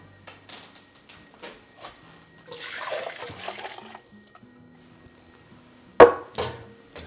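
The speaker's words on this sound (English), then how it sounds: "We'll put it back into the measuring cup." Curry sauce poured back into a measuring cup over a sink, a soft liquid pour lasting a couple of seconds between scattered light clinks, ending with a sharp knock.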